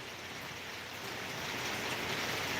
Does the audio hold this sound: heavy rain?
yes